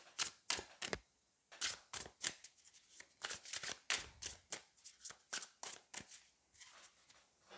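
Tarot cards being shuffled by hand, a rapid series of crisp riffling bursts and soft slaps repeating in close succession, near and fairly quiet, with no talking.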